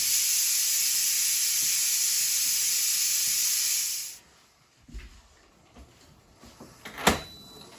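A pressure canner full of venison gives a loud, steady hiss of escaping steam for about four seconds, then cuts off, leaving scattered metallic clicks and knocks.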